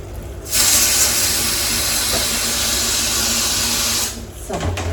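Dal pot boiling over on a home kitchen stove, a steady loud steam hiss and bubbling rush that starts abruptly, holds for several seconds, then cuts off.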